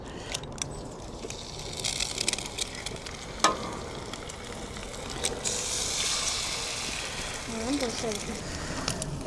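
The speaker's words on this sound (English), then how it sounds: "this would be a good test to see if these eggs stick to this griddle" Eggs sizzle on a Coleman RoadTrip 285 griddle with a surface that is not non-stick. The frying is steady and close, with a few sharp utensil clicks and a faint voice near the end.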